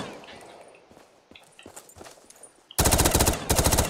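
A pistol fires in a fast, loud burst in a Call of Duty Black Ops 3 zombies custom desert arena map, a dense run of sharp cracks that follows quieter scattered clicks and footsteps.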